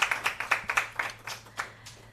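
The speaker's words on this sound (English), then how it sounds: "So can we give her a round of applause, please?" A small audience at an education career talk claps for a speaker, with about a dozen distinct, fairly close hand claps in an uneven rhythm that slows and fades.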